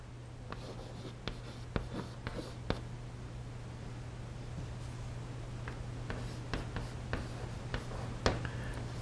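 A pen scratches out a recipe ingredient list, with quiet close strokes and ticks in short irregular runs over a steady low hum.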